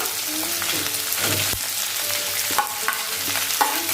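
Vegetables for crispy soya chilli are stir-fried over a high flame, giving a continuous close sizzle with rhythmic scraping and tossing strokes of the spatula against the pan.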